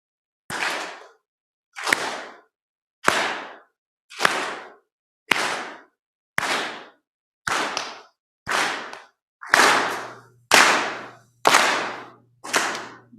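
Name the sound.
group clapping in unison with the speaker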